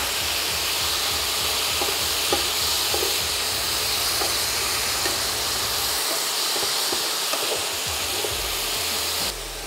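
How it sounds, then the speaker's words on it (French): Water poured into a pan of cooking leeks gives a steady, loud broadband hiss and sizzle of steam that fills the whole stretch, with a few faint clinks over it and a low rumble that drops away partway through. "Alors en cours de cuisson, je rajoute un tout petit peu d'eau."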